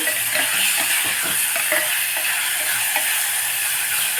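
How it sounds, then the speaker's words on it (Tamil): Tomato rice base sautéing in oil in a pan, a steady close sizzle and frying hiss running throughout with repeated scraping stirs of a utensil against the pan. "ஓரளவுக்கு வதங்கியாச்சு"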